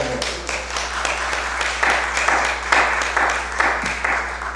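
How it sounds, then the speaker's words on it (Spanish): A church congregation applauds a speaker, with rhythmic, pulsing clapping that swells and dips in waves across the room, loud and close, with a low steady hum underneath. "Denle un aplauso a él, por favor"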